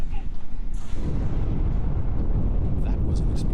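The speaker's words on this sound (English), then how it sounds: "That was an explosion of sufficient magnitude to cause a breach." A loud, booming explosion in the space video game Star Trek Online, a sharp burst at the start that settles into a sustained low rumble.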